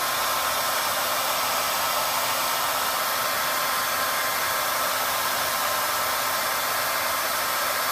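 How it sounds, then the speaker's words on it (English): A hair dryer blows continuously over fiber mascara lashes, a loud, close, steady rushing whoosh with a faint motor hum and no other sounds. "Turn on your blow dryer and check this out."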